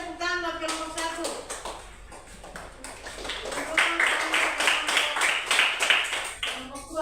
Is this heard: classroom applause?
yes